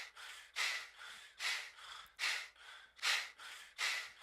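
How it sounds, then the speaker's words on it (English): Stereo breath samples from a music track: a steady run of about eight close, airy inhales and exhales, evenly spaced and fairly soft, with nothing else heard. "And I found these, like, breaths."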